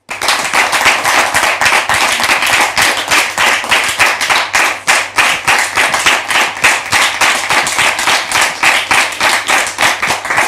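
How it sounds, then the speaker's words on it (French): A gathered audience welcoming guests claps in loud, close, rhythmic unison, a steady beat of sharp hand claps sustained for over ten seconds. "Sous vos applaudissements, s'il vous plaît."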